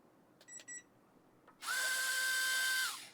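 A couple of short electronic beeps, then the small motor of a WLtoys Vagrant 1:24 scale RC buggy whines up to a steady high-pitched scream at full throttle in low speed mode before cutting off.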